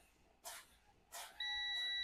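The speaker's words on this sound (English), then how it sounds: "So I hear the alarm" Low air pressure warning alarm in a truck cab during a brake check: two short hissing bursts, then a steady, high-pitched electronic buzz switches on and holds loudly to the end.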